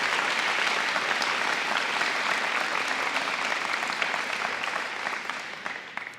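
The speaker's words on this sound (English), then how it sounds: "I'd like to give Mr. Watson a round of applause as well for that." A high school scholarship night audience claps in a steady, full round of applause, many hands close and loud, continuing evenly before easing slightly at the end, with no talking.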